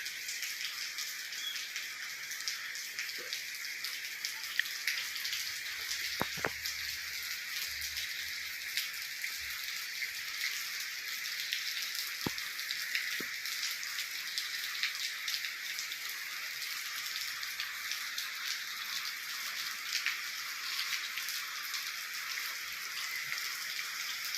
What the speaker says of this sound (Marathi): बाहेर बघताय मस्तीपैकी असा पाऊस पडतो आहे रिमझिम